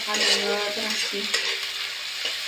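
Chicken biryani ingredients fry in a pan with a continuous, close and fairly loud sizzle, plus some scraping stirring noises, and no talking.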